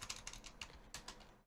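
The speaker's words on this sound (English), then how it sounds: "So just before my spawn projectile here, I'm just going to type in event" Quick, light clicks of a computer keyboard tap out a short run of keystrokes, close and quiet with an uneven rhythm, then cut off.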